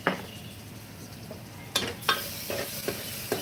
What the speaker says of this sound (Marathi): आपल्याला छान परतून घ्यायचे त्या दही टाकल्यानंतर